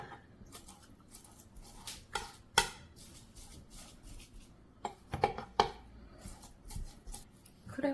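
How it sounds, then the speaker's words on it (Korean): Scattered taps, scrapes and soft squishes of a knife's back separating crab sticks on a cutting board, irregular and close, with no voices. "칼등으로 크레미를 분리해 주도록 할게요."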